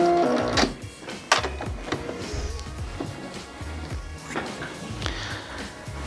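A Baby Lock embroidery machine runs in a quiet room, giving off uneven mechanical clicks, taps and whirring bursts, with a couple of sharper knocks along the way.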